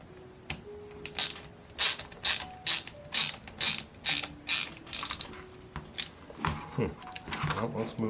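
Parts are unscrewed from a Saito FA-300T model engine, producing rhythmic bursts of ratcheting clicks, close and fairly crisp, repeating about every half second.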